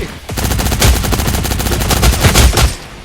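Dense automatic gunfire from the video game Cyber Hunter, rapid bursts of shots rattling continuously and loudly for the whole stretch with heavier thumps near the start and end.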